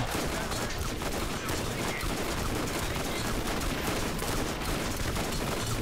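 Sustained rapid gunfire from a gun in the Borderlands video game, a dense continuous barrage of overlapping shots that stays loud and unbroken from start to finish.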